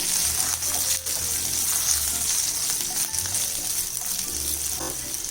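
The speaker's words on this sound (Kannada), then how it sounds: "ಎಣ್ಣೆಲೆ ಚೆನ್ನಾಗಿ ಹುರಿಬೇಕು" Green chilies frying in oil in a pan for mosaru menasinakai, a loud, continuous crackling sizzle with bursts of spitting and stirring clatter, close up and without talk.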